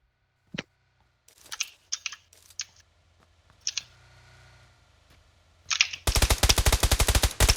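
PUBG Lite gunfire: a few isolated single shots and clicks, then a fast, loud burst of automatic fire that runs continuously to the end.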